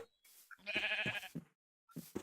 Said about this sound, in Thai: เราไปล่อแกะมา